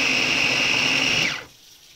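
A blender whirs loudly and steadily while mixing cottage cheese casserole with sour cream, then spins down and stops after about a second and a half, leaving quiet room tone.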